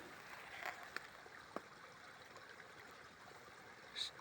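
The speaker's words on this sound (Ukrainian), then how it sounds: "Струмочок так шумить в січні місяці." A small woodland stream babbles steadily in January at a wild spot where beavers have been active, a soft continuous trickle with a few faint clicks and knocks on top, quiet and close.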